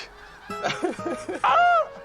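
Geese honk close by: a quick run of repeated calls followed by one longer, louder honk. The sound comes from a large flock of wild geese.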